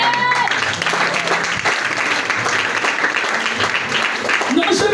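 A church congregation applauding, dense and sustained clapping from many hands filling the room, with voices mixed in under the applause.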